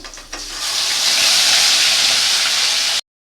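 Whole garam masala and a bay leaf sizzle in hot oil for a soybean kofta curry, a loud, steady hiss rising quickly after a brief start and holding evenly until it cuts off abruptly.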